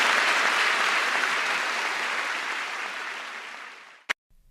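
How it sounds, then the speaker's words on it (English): An audience claps in a full, even round of applause welcoming a guest on a radio programme; the clapping slowly fades, then cuts to silence with one brief click. "I'd like to see a great response, a big round of applause for Micah White."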